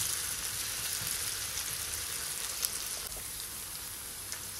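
Salted potatoes frying in a pan, a soft, steady crackling sizzle with occasional small pops, heard alone.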